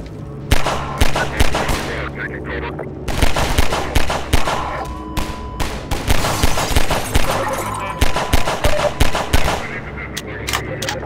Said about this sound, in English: Guys, this gun sounds really good.